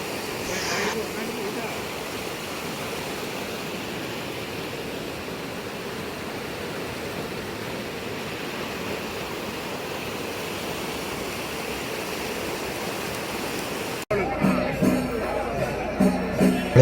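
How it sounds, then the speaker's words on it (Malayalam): A fast-flowing stream near the Kalpathy chariot festival gives a steady, broad rushing roar that holds constant for most of the clip, then cuts abruptly to busier, choppier background noise near the end. "നല്ല ശബ്ദം അവിടെ വെള്ളം ഒഴുകണാൻ്റെ"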